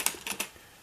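Quick keystrokes on an Epson PX-4 computer keyboard, three or four close plastic clicks in a short burst before falling quiet.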